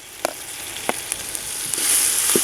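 Ginger garlic paste sizzling in a hot frying pan while cooking a Kerala duck roast, a steady bright frying hiss with a few soft clinks of stirring.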